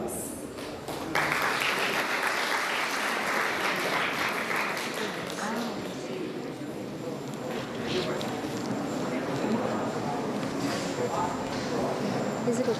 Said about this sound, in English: Please join us in welcoming ma'am to the stage with a warm round of applause